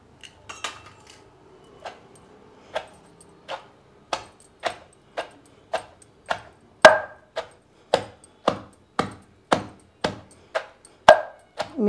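Mango pieces being pounded for a Telugu-style crushed mango pickle: a slow, regular series of sharp thuds from a pestle striking, about one every half second, close and distinct over a quiet background.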